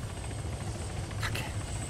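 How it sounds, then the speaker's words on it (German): A helicopter in the military game Arma 3 drones steadily through the whole stretch, a low, even rotor rumble at moderate distance, with a brief brighter burst partway through. "Oh, ich glaube, das ist ein Helikopter noch von denen."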